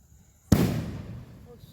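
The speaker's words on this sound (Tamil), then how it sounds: "சூப்பரான வெடி ஃப்ரெண்ட்ஸ்." A medium-sized firecracker bursts at a festival of lights at night, one sharp loud bang followed by a rumbling echo that fades over about a second, with no talk.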